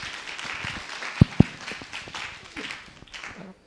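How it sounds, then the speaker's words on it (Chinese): Applause from a conference audience at the JSDC 2017 developer event greets a speaker, a moderate wash of clapping with two sharp nearby claps standing out before it tapers off. "让我们掌声欢迎他。"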